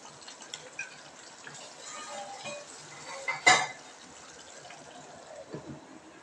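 A spoon stirs cashew gathiya curry in a pot, making soft wet sloshing and faint scraping close by, with one brief louder clank of metal against the pot midway.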